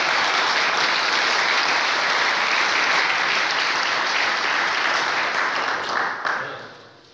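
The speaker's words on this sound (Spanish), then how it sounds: "¿Cuánto da un fuerte aplauso al Señor?" Loud, sustained applause from a church congregation honoring the Lord during a Sunday school service, dense clapping filling the room for several seconds before tapering off near the end.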